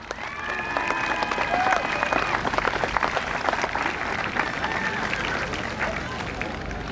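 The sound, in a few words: crowd cheering and applauding police horse Marshall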